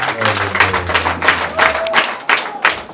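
Church congregation at a bishop's installation claps in a loud, near, rhythmic pattern, roughly steady beats repeating over a few seconds with a faint hum of voices underneath.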